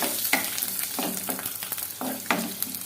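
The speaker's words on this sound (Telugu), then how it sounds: "ఆయిల్ వేడైన తర్వాత 1 టేబుల్ స్పూను జీలకర్ర, గుప్పెడు తీసి పెట్టుకున్న వెల్లుల్లిపాయలు వేసేసుకొని కాసేపు ఫ్రై చేసుకోవాలి" Cumin seeds and garlic fry in hot oil for a peanut chutney powder, a continuous close sizzle broken by regular scraping strokes of stirring.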